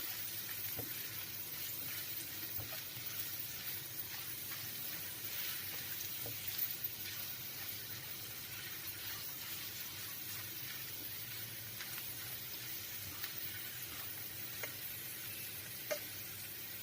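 Spiced poha with turmeric sizzles steadily in a pan while it is stirred. The frying hiss is continuous and close, with occasional faint clinks of a utensil.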